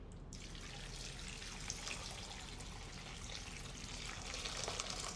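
Water from a tap pours steadily into a container of salted green plums being made into crisp pickled plums, a constant close rushing splash throughout with no talking.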